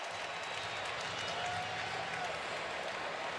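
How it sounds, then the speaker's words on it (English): Auburn fans in a packed stadium roar and cheer steadily during the 2013 SEC Championship football game against Missouri, a dense, continuous crowd wash with scattered clapping and a commentator's voice underneath. "Now you hear more of the crowd reacting."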